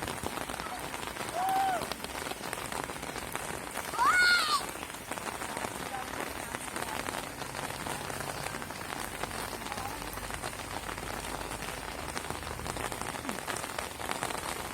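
Steady rain falls on an outdoor football pitch, a dense, even hiss throughout, with a couple of faint distant whistles or calls.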